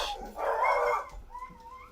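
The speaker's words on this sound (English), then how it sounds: "dog's going nuts" A dog barks a couple of times in the background, a fairly faint, brief burst followed by a softer yip, heard alone without talk.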